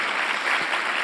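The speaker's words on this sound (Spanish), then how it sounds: "Sí, un aplauso, muchas gracias." Steady, dense clapping from a conference audience, loud and continuous throughout with no voices standing out.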